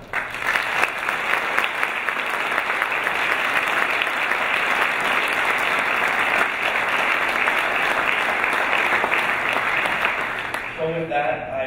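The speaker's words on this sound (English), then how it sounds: "if we could give one more round of applause to each of those winners" Sustained audience applause at an awards gala, a dense, steady wash of clapping from a large crowd lasting the whole stretch and fading out at the very end.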